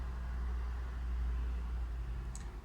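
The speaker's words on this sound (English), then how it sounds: "Sorry about the truck noise outside." A truck passing on the road outside an indoor room, heard as a steady low rumble throughout with no talking over it.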